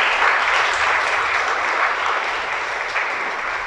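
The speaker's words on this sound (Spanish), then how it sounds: "Dale un aplauso a Él, pues." A church congregation breaks into steady, dense applause, a loud continuous wash of many hands clapping together at close range with no voices over it.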